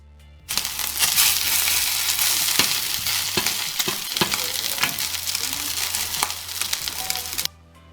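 Salt and pepper seasoned ingredients stirred in a hot frying pan, giving a steady, loud sizzle with scraping and clicking from the spoon, starting suddenly and cutting off near the end, with no talk.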